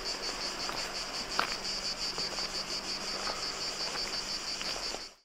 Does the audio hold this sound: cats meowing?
no